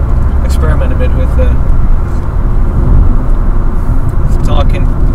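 A car drives along a road with a continuous, loud engine and tyre rumble from inside the cabin, steady from start to finish with a few brief higher rattles.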